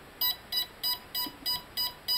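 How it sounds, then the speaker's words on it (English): A brushless electric motor's ESC gives startup beeps on a test bench: seven short, evenly spaced electronic beeps, each a bright high tone, repeating at a steady brisk rhythm. "we hear some healthy beeps"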